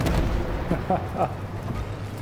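A Merkava IID tank cannon fires in the Armored Warfare video game, with a heavy boom at the start and another near the end, while someone commentates over the action.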